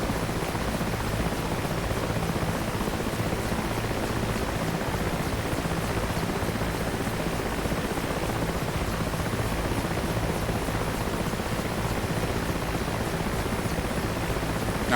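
Steady, dense rotor and turbine drone from a helicopter in the DCS World flight simulator, continuous and unchanging at even loudness for the whole stretch, with no voices.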